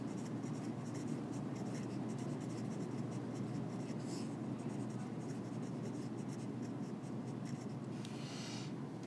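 A pen or marker writes steadily during a metabolism lecture, a faint continuous scratching with small strokes and taps, with no talk over it.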